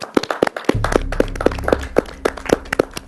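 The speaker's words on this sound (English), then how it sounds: "perhaps we'll give them a round of applause as they leave" An audience applauding as two models leave a stage at a televised ideas contest, scattered close hand claps forming irregular bursts with a low rumble beneath, no talking.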